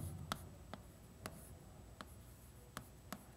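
Chalk or a pen writes on a board in a quiet classroom during an arithmetic lesson, making faint, sharp, scratchy strokes at irregular intervals.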